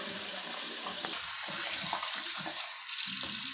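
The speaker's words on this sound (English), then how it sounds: "wait till you get some hot water running" Hot water runs from a tap in a steady, hissing stream that fills the whole stretch at moderate loudness, with faint low thumps and handling noises underneath.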